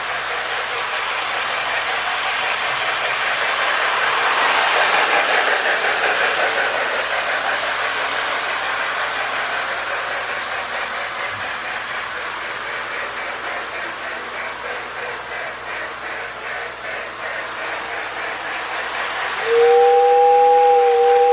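A small Marx E7 toy model train pulling Ives passenger cars rumbles steadily along its track with a rhythmic clatter, ending in a brief high whistle tone.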